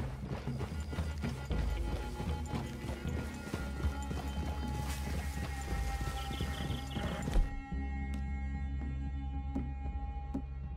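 Several horses' hooves clip-clopping at a trot through a forest clearing in the video game Red Dead Redemption 2, a dense, steady patter of close hoofbeats that thins out near the end, with a creak and a faint thud.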